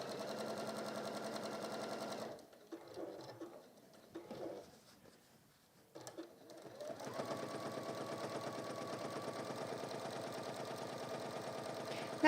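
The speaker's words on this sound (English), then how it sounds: "I'm just going to top stitch down, and then everything is held in place" A domestic sewing machine top stitching fabric for a textile mug carry runs steadily in the first two seconds, pauses with faint handling sounds, then resumes a long even stitching run close by.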